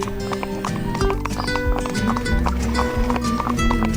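A horse moves along with steady hoof clops under a dense, busy background; a voice may be faintly present.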